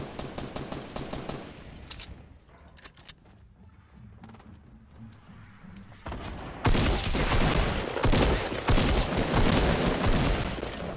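Gunfire in the video game Fortnite, at Retail Row: bursts of automatic fire, lighter at first, then a dense, loud, continuous fusillade filling the last several seconds.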